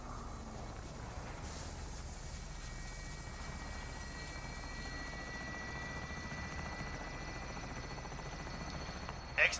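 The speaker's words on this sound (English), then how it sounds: "Hurry up, helicopter." Helicopter arriving for extraction in the video game Warzone, a steady rotor drone with a whining high tone that holds throughout at moderate level.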